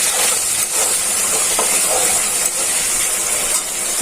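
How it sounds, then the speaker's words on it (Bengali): Shrimp fry in hot oil in a pan, a steady, loud, close sizzling hiss that runs unbroken throughout with no speech. "ভাজা হচ্ছে চিংড়ি মাছটা।"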